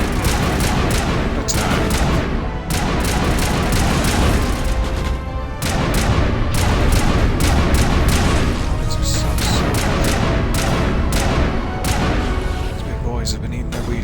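Rapid gunfire in the Mass Effect video game during a city battle, with dense bursts of sharp shots, crashes and booms repeating almost without pause, loud and close, while a voice speaks briefly over the din.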